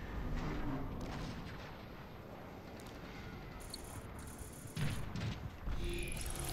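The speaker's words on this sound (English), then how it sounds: "there are three warp cannons shelling the Ark" Warp cannons shell a ship in the Transformers: Fall of Cybertron video game, heard as a dense, distant-sounding barrage of rumbling booms under a steady mechanical drone, with heavier blasts near the end.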